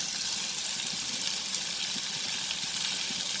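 Chopped onion and green chilies frying in a pan for paneer toast, a constant, even hiss of sizzling oil throughout without pauses or voices.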